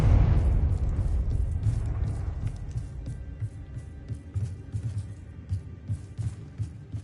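A Confringo spell explosion from Hogwarts Legacy on PS5 opens with a loud, deep boom that rolls into a decaying low rumble, followed by scattered softer thuds and crackles as the blast fades.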